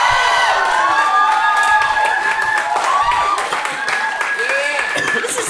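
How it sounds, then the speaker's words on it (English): An audience at an open mic night claps and cheers loudly throughout, with whoops and shouted voices mixed into the dense applause. "Round of applause for the Spannari!"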